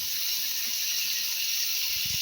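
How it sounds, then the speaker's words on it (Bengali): Eggplant and potato pieces frying in mustard oil with black cumin give a steady, even sizzling hiss, with a faint low clatter near the end. "একটু হালকা করে বেগুন আলুটাকে ভেজে নেব।"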